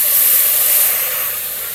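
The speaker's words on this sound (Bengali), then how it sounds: "এর মধ্যেই জল দিয়ে দিচ্ছি" Hot water is poured into a pot of fried mung dal for vegetarian khichuri, producing a short, loud, close hiss of steam that gradually eases off within two seconds.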